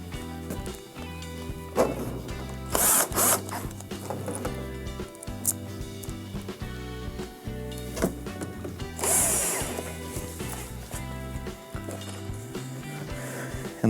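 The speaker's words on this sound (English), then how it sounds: "And reinstall our 2 Phillips screws." Two Phillips screws are driven back into the top panel of a Fisher & Paykel washer, bursts of power-driver whirring with mechanical clicks and rattles, close and moderately loud, separated by brief pauses.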